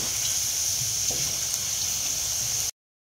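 Potatoes deep fry in plenty of oil with a constant close hiss and bubbling. The sound stays even, then cuts off abruptly.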